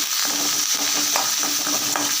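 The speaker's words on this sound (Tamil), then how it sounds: "வெங்காயம் ஒரு பச்சை மிளகாய் கருவேப்பிலை இது எல்லாத்தையும் இதில் வதக்கி விட்டுக்கலாம்" Steady sizzling and frying of onion, green chili and curry leaves in a pan, with occasional light stirring clicks, close and continuous.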